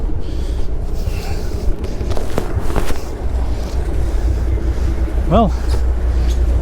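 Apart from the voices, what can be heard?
boat engine running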